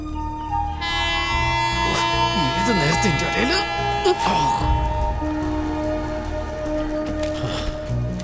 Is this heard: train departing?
yes